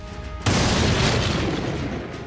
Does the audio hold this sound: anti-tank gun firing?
yes